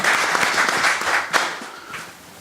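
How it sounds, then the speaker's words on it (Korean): An audience at a 2015 academic symposium marking the 70th anniversary of Korean liberation applauds to welcome a speaker, with brisk overlapping claps that hold steady, then thin out and fade toward the end. "박수로 다 환영을 해 주십시오."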